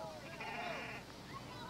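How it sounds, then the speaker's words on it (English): A goat kept by an elderly father in a desert setting gives a short wavering bleat, faint and somewhat distant, heard against background room noise. "My father's goat."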